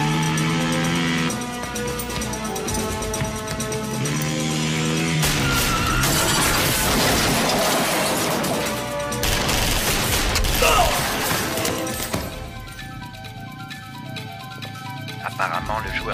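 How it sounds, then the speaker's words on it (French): Gunfire in an action film, with rapid bursts and shattering impacts over a dense orchestral score, with people talking in French underneath. "d'où est-ce qu'ils viennent ces coups de feu?"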